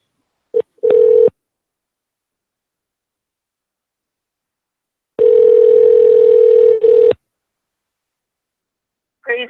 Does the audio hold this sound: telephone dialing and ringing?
yes